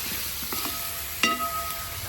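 Beef fries with freshly ground spice powder in a hot pan, giving a constant close sizzle. A couple of sharp metallic clinks from a utensil against the pan cut through, and no one speaks.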